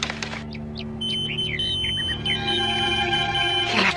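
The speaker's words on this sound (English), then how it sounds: "He left his beeper here." A pager beeps with a warbling electronic tone over a low steady hum, sounding for a few seconds at moderate volume.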